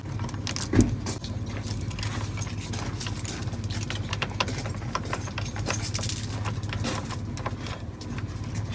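Keys jangle and rattle continuously over a low rumbling engine or vehicle hum, with a brief thump near the start, around a 1975 Chevrolet C10 truck.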